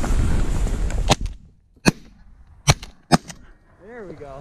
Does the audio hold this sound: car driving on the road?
no